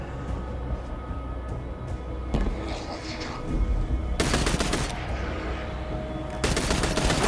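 An automatic weapon fired from the hip in Destiny 2, heard as two bright rapid bursts of fire, the second cut short, over a low steady game ambience with quieter clatter before them.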